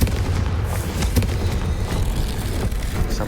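Confringo fire spell in Hogwarts Legacy bursting into a loud, dense explosive roar that rumbles continuously throughout, with sharp crackling hits on top.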